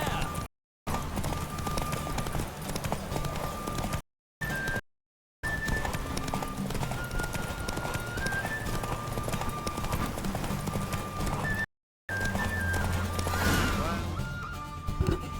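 Horse hooves pound in a fast gallop during a horse race in a Witcher video game, a steady clip-clop running under game music with a few short silent gaps.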